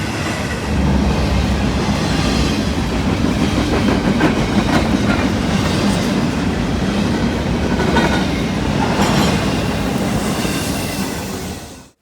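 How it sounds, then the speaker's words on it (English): A BNSF freight train led by two GE GEVO locomotives rolls past at close range, a steady loud roar of wheels and rail clatter lasting throughout before easing off at the end. "we missed this BNSF train. 2H3 GEVOs, nothing interesting"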